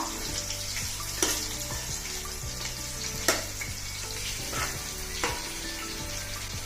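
Finely chopped onion pieces frying in a wide, shallow pan, a continuous dense crackling sizzle with occasional sharper pops and stirring knocks, close and steady throughout.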